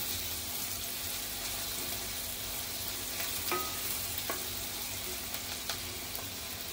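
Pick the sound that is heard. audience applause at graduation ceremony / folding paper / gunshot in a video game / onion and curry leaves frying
onion and curry leaves frying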